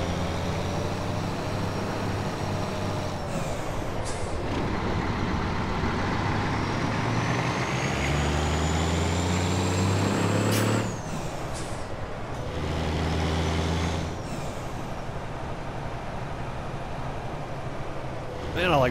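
Freightliner FLD 120 truck in American Truck Simulator: a steady, deep diesel engine drone that climbs and drops in pitch with shifts, and a brief air-brake hiss partway through, with a voice talking over it at times.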